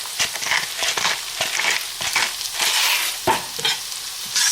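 Seasoned chicken sizzling in a hot pan while being stirred about, a steady fry hiss broken by sharp scraping clicks of the utensil, close and fairly loud, no voices.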